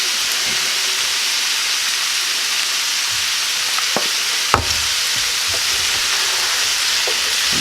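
Smoked sausage hash frying in a pan with a steady, close sizzle and hiss, stirred with a few soft scraping knocks and one sharp clack partway through, no talking.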